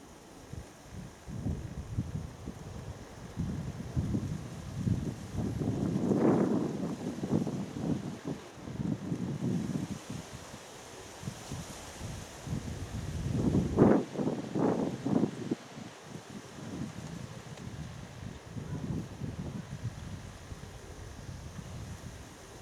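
Strong wind gusting and buffeting the microphone outdoors while Baku pigeons fly and land, with broadband rushing surges swelling and fading over the whole span.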